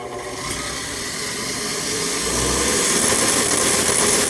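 A belt grinder rig with its blower running gives a steady loud whirring drone with a broad airy hiss that swells slightly partway through and holds constant, with no talk.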